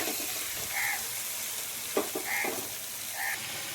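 Steamed or fried potato and cauliflower pieces tipped into spices frying in a pan, a soft continuous sizzle with a few clattering knocks and stirring scrapes, faint and close.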